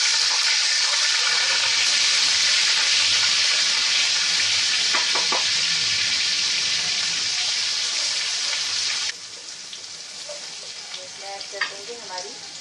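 Ginger goes into hot oil with browned garlic as the tempering for a mixed vegetable sabzi, and it gives a loud, steady, close sizzle throughout. The sizzle drops to a softer crackle near the end, with faint stirring clinks.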